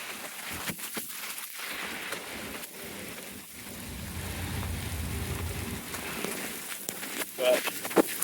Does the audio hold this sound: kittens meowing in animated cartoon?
no